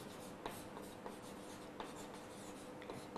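Chalk or marker writing on a board during a class lesson on crop production, with scattered short scratching strokes and soft taps over a steady background hiss, fairly close and moderate in level.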